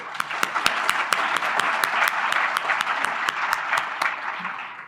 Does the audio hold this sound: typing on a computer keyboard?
no